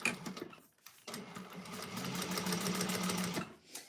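An industrial sewing machine set to a 5.5 stitch length runs through the exterior of a bowler bag, a brief start then a sustained close whirring drone for about two seconds before stopping.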